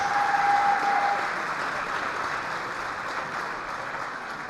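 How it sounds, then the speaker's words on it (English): A crowd in a high school gym applauds a senior cheerleader at a JV/varsity basketball game, steady clapping that starts strongest and gradually thins, with a short tonal whistle early on. "would you please give a round of applause for Jenna Wagner-Tackage"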